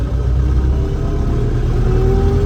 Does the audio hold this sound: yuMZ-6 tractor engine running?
yes